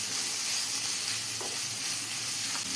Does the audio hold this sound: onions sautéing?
yes